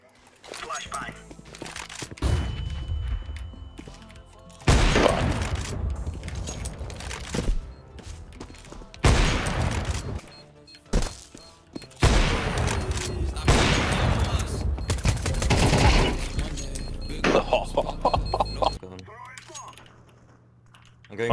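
Counter-Strike 2 match with a grenade blast and bursts of rapid gunfire, loud booming volleys separated by brief lulls, with players talking over the action.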